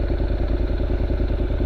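A Honda CTX700 motorcycle with an aftermarket exhaust idles close by, its low engine note pulsing in a steady, even rhythm, loud and alone.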